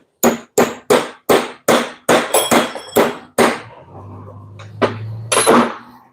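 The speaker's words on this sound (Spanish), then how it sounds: "Vamos a darle unos pequeños golpes hacia abajo a ver si logramos que salga." Light hammer blows knocking a worn gear shifter bushing out of a Volkswagen Worker truck's shift linkage: a quick series of about ten sharp metallic taps, close and loud, then a faint low hum and a couple of final knocks.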